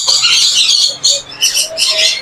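Weaver birds at a bird market give loud, close, harsh chattering calls in several bursts, overlapping squawky trills filling the space with little pause.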